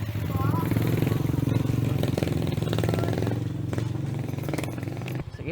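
Motorcycle engine running steadily close by during an evening joyride, a continuous mid-pitched drone with slight revving, with music and talk layered over it and a brief drop near the end.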